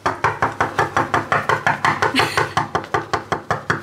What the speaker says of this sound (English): I was knocking on the wrong room.